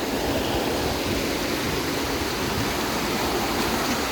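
Water pouring steadily onto slippery rocks near Naran, heard as a loud, continuous broadband rush of falling water close by, with no voices.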